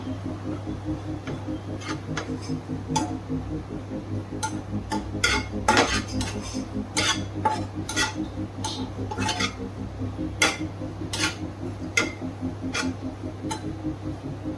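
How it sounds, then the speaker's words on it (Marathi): Grated coconut dry-roasting in a pan gives a soft, irregular series of scraping and tapping stirs over a low steady hum, close by and without speech. "खोबरं चांगलं लालसर भाजून घेऊयात आपण"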